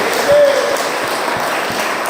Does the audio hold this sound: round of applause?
yes